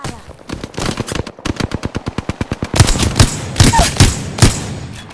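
Automatic gunfire in a battle royale shooter, a rapid regular burst of loud close shots followed by heavier, more spaced single and double shots.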